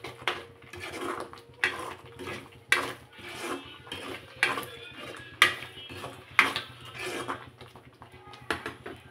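A metal spoon scrapes and clinks rhythmically around a pan while chili powder is stirred into paneer curry, about a dozen sharp knocks over a faint sizzle, close up with no speech.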